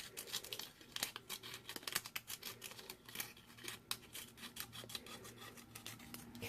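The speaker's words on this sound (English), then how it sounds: "So I'm just cutting these middles out here" Scissors cutting the middles out of paper cupcake rosettes, with close, quiet rasping snips and paper rustling in an irregular run of short cuts, with no voice.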